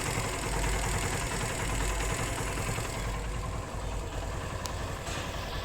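A Suzuki GR150 motorcycle engine idles steadily close by while its air-fuel screw is adjusted, a continuous low rumble with no voices over it and a slight dip in revs near the end.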